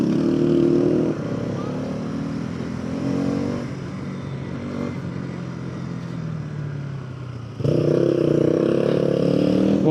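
A Bajaj Pulsar NS200 BS6 motorcycle on the move, its engine droning steadily close by, louder at the start and again near the end as the throttle opens, with some road rumble throughout.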